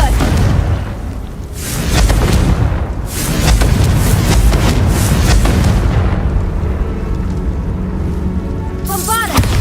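Blasts from the Confringo fire spell in Hogwarts Legacy burst out in loud booming explosions with rumbling low-end tails. The blasts recur over a continuous game soundscape.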